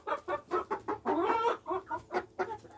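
Chickens cluck close by in a steady run of short, rhythmic calls with a few longer squawks, loud and clear with no talking.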